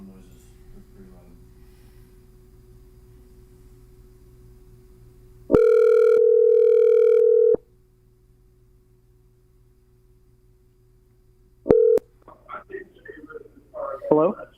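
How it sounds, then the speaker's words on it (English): Loud steady phone-line tone lasting about two seconds, then a brief second beep, set against a low background line hum, with faint voices talking near the end during a call-in show. "going to turn down your phone noises. They're pretty loud."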